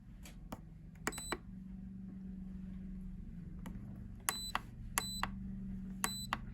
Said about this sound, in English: guessing that's a timer